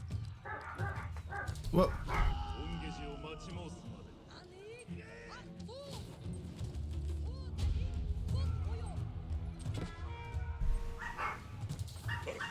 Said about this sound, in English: My freaking dogs are going crazy for some reason.